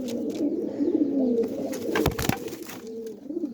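A domestic pigeon, a tumbler-type bird that returned home after being lost the year before, coos in low, throaty rolling phrases close to the microphone, with a few brief clicks and rustles partway through and no talking.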